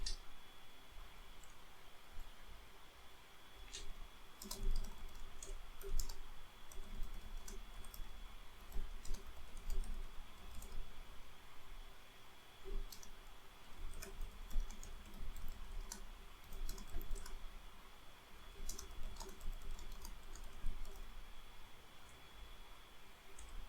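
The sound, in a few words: typing a prompt on a computer keyboard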